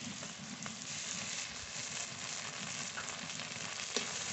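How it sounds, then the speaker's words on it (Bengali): Ginger-garlic paste frying in a pan with chopped onion and tomato, a steady close sizzle with faint crackles running throughout, no voices. "এবার আদা রসুন বাটা দিয়ে দেবো।"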